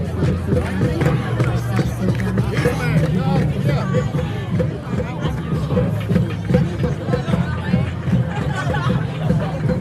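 Busy crowd in Times Square, Manhattan, at night: dense hubbub of many voices chattering and mingling, steady and close, with traffic noise underneath and a nearby voice speaking over the babble.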